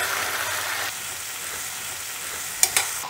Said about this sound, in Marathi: ही मोहरी घातली, थोड्याशा मिरच्या, हिंग, हळद आणि ह्या भेंडी आपण याच्यामध्ये घालूया.